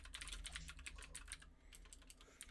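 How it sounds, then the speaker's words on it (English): Rapid clatter of keys on a noisy computer keyboard, close and fairly loud, with fast irregular bursts of keystrokes running steadily throughout with no talking. "Got a really noisy keyboard there"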